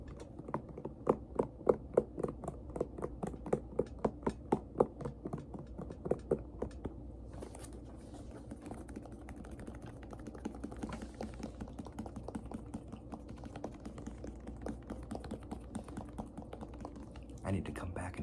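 Crisp fingertip taps on white sneakers, a rapid run of sharp clicks and knocks that slows into softer scattered tapping, close and quiet, with a voice speaking intermittently underneath.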